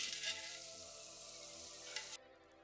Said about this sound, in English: We're gonna use that fond, that butter, to go ahead and get that shrimp nice and seasoned and nice and cooked.